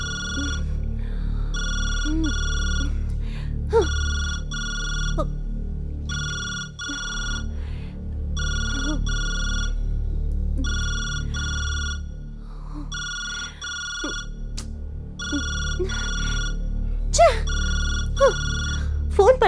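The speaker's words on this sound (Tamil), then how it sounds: "ஃபோன் பண்றாங்க, பேச மாட்டேங்கிறாங்க." A telephone rings in regular repeated double bursts of electronic tone, loud and steady, with a few brief sounds between rings.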